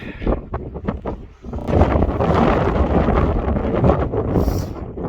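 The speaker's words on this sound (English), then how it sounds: "Bloody windy." Strong wind on Grindslow Knoll in the Peak District roars across the microphone in a loud, steady rush that builds after a brief quieter start and keeps buffeting with no pause.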